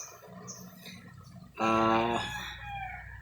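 A rooster crows loudly partway through, a long harmonic call that trails off, among several roosters crowing together, over a low murmur of farmyard background noise.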